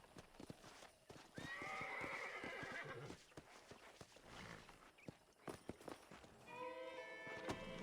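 Horse hooves clip-clop in a steady walking rhythm in Red Dead Redemption on Nintendo Switch, with a loud whinny rising around the middle and another neigh near the end, set against game ambience and brief voices.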